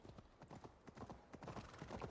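A horse's hooves clip-clop along a road in the video game Assassin's Creed Valhalla, a steady, quick rhythm of hoof strikes running continuously at moderate volume.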